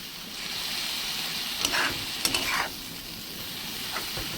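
Ambuli greens stir-fry in a kadai, giving a steady close sizzle with a few sharp scraping stirs partway through.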